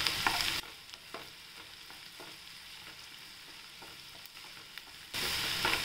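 Spring onion greens sautéing in a pan with a steady, soft sizzle and occasional scrapes of stirring; the frying grows louder at the start and end, with no talking.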